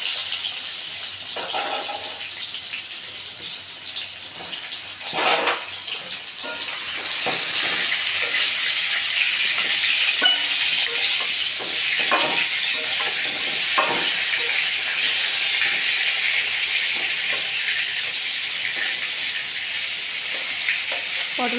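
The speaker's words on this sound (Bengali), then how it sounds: "একটু সময় নিয়ে পটলগুলোকে ভাজতে হবে।" Potol (pointed gourd) coated in turmeric and salt frying in hot oil, a steady loud close sizzle with occasional stirring scrapes and spatters, no voices.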